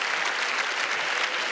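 Audience applause at a stand-up comedy show, a dense, steady burst of clapping from a crowd filling the room.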